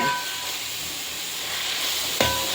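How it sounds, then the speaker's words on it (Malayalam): Sliced onions sautéing for a festive biryani, a steady close sizzle and hiss from the pan with a brief louder clink or stir near the end, no voices. "നമ്മളിതാ സബോള വഴറ്റാൻ വെച്ചിട്ടുണ്ട് കേട്ടോ"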